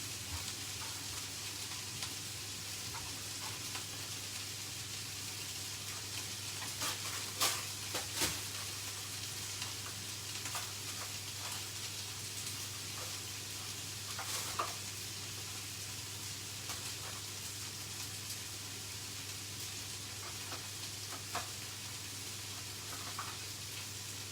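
Brussels sprouts sizzle steadily in a frying pan for a veg and lentil shepherd's pie, a constant close hiss broken by a few sharp pops and clinks of stirring.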